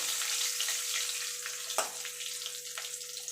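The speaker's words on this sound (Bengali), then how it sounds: "2টা কাঁচা লঙ্কা দিয়ে দেবো।" Two green chillies hit hot oil tempered with nigella seeds, making a soft, steady sizzle with one sharper crackle partway through, fairly faint and without talk.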